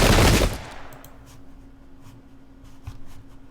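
A musket volley hits infantry in the Pike and Shot strategy game. One loud burst of massed gunfire lasts about half a second, then fades into a quiet background hum with faint scattered clicks.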